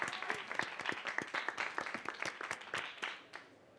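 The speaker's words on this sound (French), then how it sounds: "Alors viva et applaudissements pour Martha." A class audience in a French dance school drama claps enthusiastically, a bright burst of many individual hand claps in quick irregular rhythm that fades out toward the end, with no voices over it.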